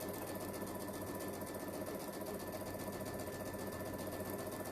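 A sewing machine stitches down quilt pieces from a jelly roll strip project, a steady continuous motor whir with a fast even needle rhythm, close and constant with no talk.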